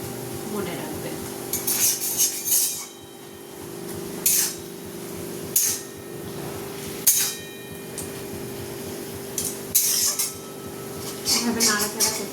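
A spoon works through cooked rice and bottle-gourd-leaf paste in a pan, giving a run of scattered metallic clinks and scrapes with short pauses, close and moderately loud.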